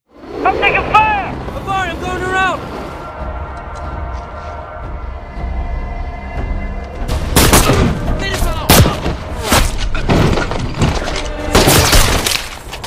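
Gunfire in a war film: after a short burst of voices, sharp shots crack repeatedly in the second half, loud and irregular over a rumbling background.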